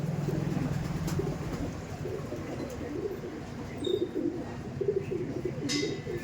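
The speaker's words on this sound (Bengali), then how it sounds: "দেখেছেন কতটা অ্যাগ্রেসিভ চঞ্চল পায়রা" A young, lively Teddy pigeon gives a low, throaty coo at the start, then quieter cooing murmurs over faint background traffic.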